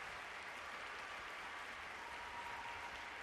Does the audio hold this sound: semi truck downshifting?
no